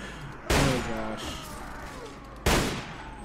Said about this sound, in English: Just listen to all those shots right now.